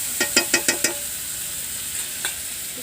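Chilli powder, salt, turmeric and garam masala sizzle in hot oil over a stove, with a quick run of five sharp stirring scrapes at the start, then a steady faint hiss.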